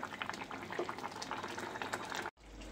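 Fish curry bubbles and simmers in a pot, a steady close sizzle of boiling liquid that stops abruptly near the end.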